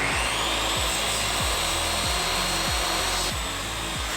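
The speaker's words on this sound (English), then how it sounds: "I did just use my table saw, kind of like a bandsaw" Table saw cutting a wood panel for van cabinets, a steady loud whine with rhythmic low pulses as the blade works through the piece, heard close with no talking.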